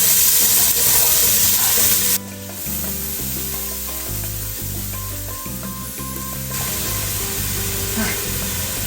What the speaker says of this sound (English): Okay, so you add some oil. You add your chopped onions.